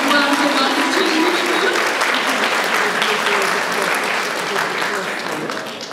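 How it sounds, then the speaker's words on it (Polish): An audience at a cosplay contest applauds, sustained dense clapping that carries on for several seconds and slowly tapers off. "naprawdę proszę o wielkie brawa dla wszystkich"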